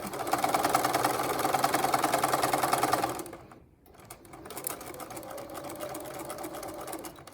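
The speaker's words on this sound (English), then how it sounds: "I'm going to go forward a couple stitches. I'm going to go backward a couple stitches, and then I'm going to follow my line." Sewing machine running a straight seam: a close, steady fast whir for about three seconds, a brief stop, then a lighter, slower run of stitching.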